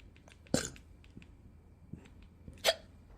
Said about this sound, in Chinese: 我开始打嗝了